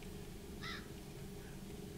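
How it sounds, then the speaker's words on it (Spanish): A crow in the modded video game Minecraft gives one short, rasping caw, fairly faint over a steady low game-ambience hum. "¡Escucho un pinche cuervo!"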